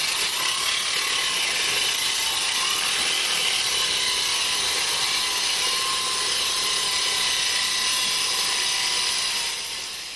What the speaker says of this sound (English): A diamond saw blade in a battery-operated grinder cut grooves